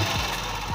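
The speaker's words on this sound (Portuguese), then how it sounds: "Bota aqui o barulho do motor." The engine of a Honda Pop 100 motorcycle with an oil leak idles up close, giving a steady, dense, even rumble that fills the short stretch without a break.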